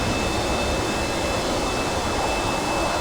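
A-4E Skyhawk jet engine idles steadily after a cold start in a flight simulator game, a loud, continuous broadband roar with a thin high whine running throughout.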